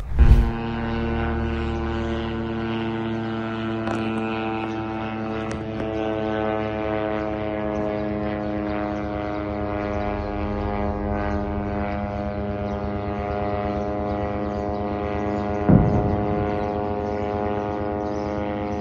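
A military drone flies overhead in Rafah with a steady, droning propeller buzz full of sustained harmonic tones that holds throughout, with a couple of brief louder knocks near the start and later.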